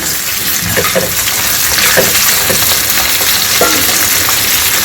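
Tomatoes for a South Indian red kaara chutney fry in a pan, giving a loud, steady close sizzle with occasional stirring scrapes and no talk.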